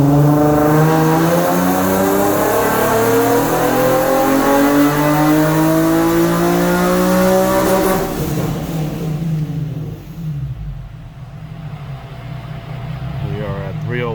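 A car on E85 fuel with 3-inch intakes, long tube headers, stock Y pipe and stock muffler revs hard on a dyno, a loud engine note climbing steadily for about eight seconds before dropping off and settling to a lower rumble.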